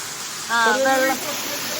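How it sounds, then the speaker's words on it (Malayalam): Steady falling water from a waterfall hisses throughout as a broad wash of noise, with a short voice speaking briefly over it. "വെള്ളം വീഴുന്നില്ലേ"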